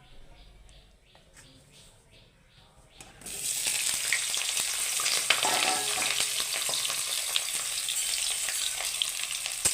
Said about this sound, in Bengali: বেগুনটা লাল লাল করে ভেজে নেব